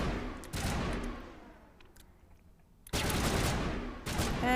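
Bursts of gunfire in the Mass Effect video game, loud dense volleys with a quieter lull in between, then renewed firing, with no talk over it.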